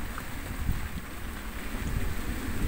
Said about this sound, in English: And if anything, the wind has increased again. I would say we're in gale force, gale force winds, 35 knots